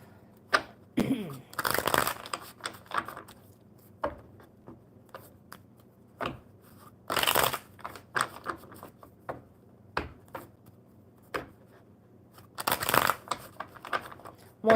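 Tarot cards riffled and shuffled in several quick bursts during a reading, close by, with softer handling rustles and taps between them.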